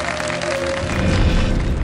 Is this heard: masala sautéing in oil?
no